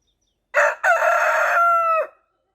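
A house chicken with a broken leg gives a single loud, close crow indoors, a short opening burst and then a long sustained call that trails off, with no other sound around it.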